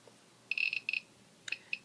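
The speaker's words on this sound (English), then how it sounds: "and then down is your normal clicking sound." A BORG+plus Geiger counter in its normal click mode gives sparse, sharp clicks in small irregular bursts, faint against a quiet background.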